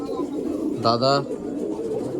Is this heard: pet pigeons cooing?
yes